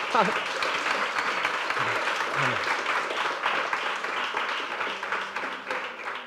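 Sustained applause from a church congregation in a reverberant hall during a Sunday service, steady and loud throughout, with voices and a few calls mixed in.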